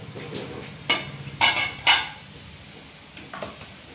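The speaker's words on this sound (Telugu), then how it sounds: "వాటర్ మరుగుతుంది కదా, ఇప్పుడు పప్పు వేసేసుకుందాం." Soaked, cleaned chana dal tipped into a pot of boiling water for Telangana-style senagapappu burelu, heard as a few short clattering pours and splashes with metallic pot clinks, close and moderately loud, with no talking.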